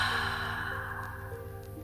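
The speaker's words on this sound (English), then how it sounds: "Take a deep breath in, and exhale out through the mouth." A single deep breath exhaled slowly through the mouth during a relaxation breathing exercise, a close, steady airy sigh that fades gradually over a couple of seconds.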